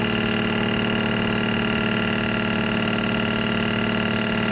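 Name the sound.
FMI pump running, pumping liquid for calibration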